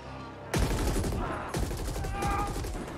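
Bursts of rapid gunfire from the video game The Ascent, with a loud volley breaking out, pausing briefly, then resuming as sustained automatic fire.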